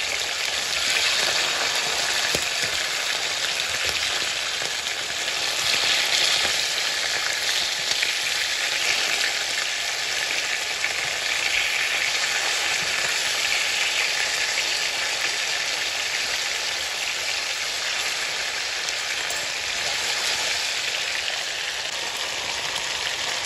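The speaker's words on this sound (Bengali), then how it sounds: "একটু মশলাটা করে ভাজা ভাজা করবো আমি।" Fish frying with spices in a pan, a loud, dense, continuous sizzle like steady rain that holds close and unbroken the whole time, with no talk.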